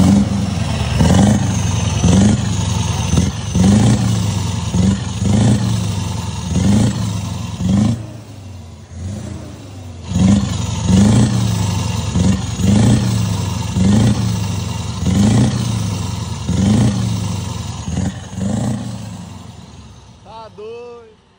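Scania 660S V8 truck with a double exhaust tip, a deep engine rumble with repeated rhythmic revving pulses that carry on throughout, heard under ongoing talk.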